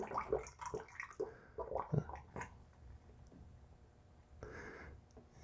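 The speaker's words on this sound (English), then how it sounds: "with the remainder of the water, I'm just going to go ahead and add that in" The last of the water is poured into a one-gallon jug of grape pyment, giving a few short gurgling splashes, then quiet, then a brief softer trickle near the end.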